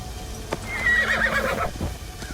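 In the video game Assassin's Creed Shadows, a horse gives a loud, close whinny lasting about a second, with faint hoof clip-clop before and after.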